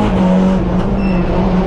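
Onboard sound of a nearly 600-horsepower four-wheel-drive race car on a circuit, a loud, sustained engine drone holding a steady pitch throughout with no speech.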